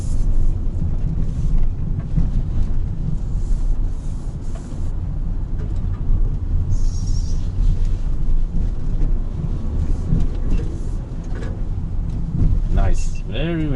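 A 2020 Mitsubishi Xpander drives over a kilometre of mild gravel road, giving a continuous rough rumble of tyres and cabin noise with wind buffeting. A person talks throughout.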